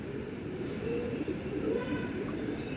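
A pigeon coos softly in the background, a low, murmuring call partly buried under steady ambient noise and faint rumble.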